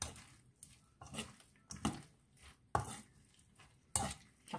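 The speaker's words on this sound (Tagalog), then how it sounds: "haluin lang po mabuti para yung harina mag-mix po siya" Egg and flour batter for okoy is stirred in a bowl, giving a series of soft, irregular scraping strokes, close and fairly quiet, with brief pauses between them.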